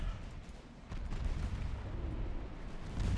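A torpedo strikes an enemy battle cruiser in the naval warfare game Ultimate Admiral Dreadnoughts, a deep muffled boom and rumbling blast that swells and continues as a dense, heavy roar.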